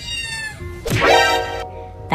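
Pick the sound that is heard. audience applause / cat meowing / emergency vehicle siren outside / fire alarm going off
cat meowing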